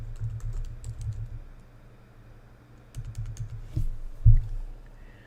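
Password being entered on a computer keyboard, close sparse key clicks in two short runs separated by a quiet pause, with a couple of louder thumps near the end and no talk.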